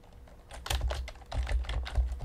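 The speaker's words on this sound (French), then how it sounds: "Et j'écris donc au capitaine Crochet" Rapid, uneven keyboard typing while writing an email on a computer, close and fairly quiet, with bursts of keystrokes and no talking.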